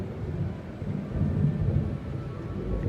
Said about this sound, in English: And the thunder rolled.